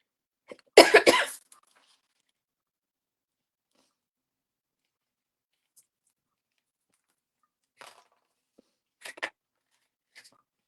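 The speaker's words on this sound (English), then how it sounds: "I apologize, guys, for coughing in your ear." A single sharp, close cough bursts out, followed by long quiet and a couple of small, faint throat sounds later on.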